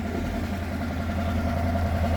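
A 1969 Rambler American 440 wagon engine idles steadily with a low, rumbling hum and slight rhythmic unevenness, close by and continuous, with no talking.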